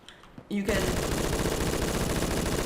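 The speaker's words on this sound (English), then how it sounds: "this weapon that I'm using right here is the HK416" An HK416 rifle in a first-person shooter game opens up after a brief quiet moment and keeps firing in a rapid, dense automatic stream. The fire stays loud and close, and a voice may be talking underneath it.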